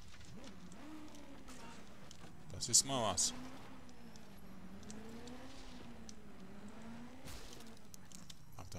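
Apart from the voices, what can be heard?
car engine in the video game Just Cause 2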